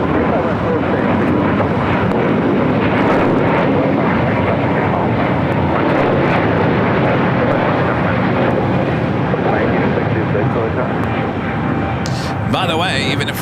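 An airliner takes off from runway 25 right at LAX, its engines a loud, steady roar that fills the whole stretch, with radio-style talk running over it.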